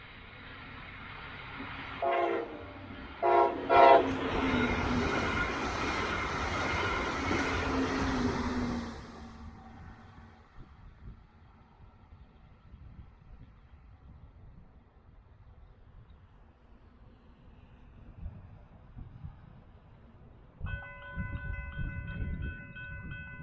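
A Brightline passenger train near West Palm Beach blasts its horn in several short bursts as it roars past close by. The rumble then fades into quieter distant traffic, with a faint tonal signal near the end.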